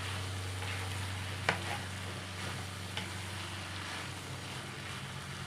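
Rice being stirred and mixed with capsicum in a pan for capsicum chitranna, giving a soft, steady scraping and faint sizzle with a couple of sharp spoon knocks against the pan, no talking.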